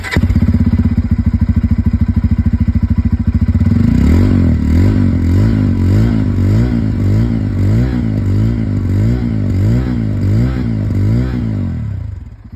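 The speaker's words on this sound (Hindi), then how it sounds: "बजाज पल्सर N250 2024 एडिशन का जो एग्जॉस्ट नोट है वो किस प्रकार से आवाज़ करता है" A 2024 Bajaj Pulsar N250 motorcycle's exhaust idles with a steady loud thump, then revs in repeated rising and falling blips, each throttle burst swelling and dropping back, close to the pipe and alone.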